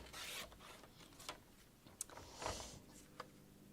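A paper trimmer slicing through gold mirror card, heard as soft scraping and rubbing strokes with a few sharp clicks and ticks, quiet and close, with no voices.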